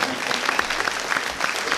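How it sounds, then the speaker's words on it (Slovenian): An audience applauds, a dense patter of many hands clapping together for a brief moment. "dajmo mu še en aplavz"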